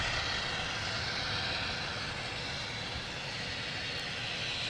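A NetJets Challenger 650 business jet arrives at Logan Airport with a steady, broadband roar that holds at an even level throughout. It sounds somewhat distant, and no one speaks.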